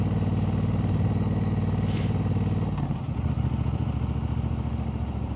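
A motorcycle engine runs steadily, then drops to a lower idle-like rumble about halfway through, with a brief clatter and faint rattles over the continuous engine sound.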